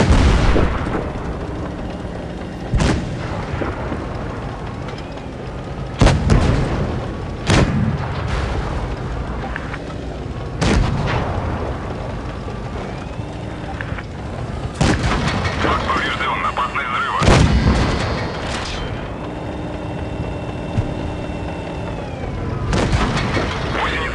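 Tank cannon shots in World of Tanks Blitz, a medium and light tank battling a heavy: sharp, loud cracks and booms fire at irregular intervals over a rumbling engine bed, with several heavy blasts close together.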